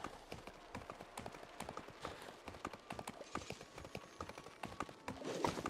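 Horse hooves clip-clopping in Disney Dreamlight Valley, a steady run of quick, evenly spaced hoofbeats close up, with light game ambience behind and a brighter flourish near the end.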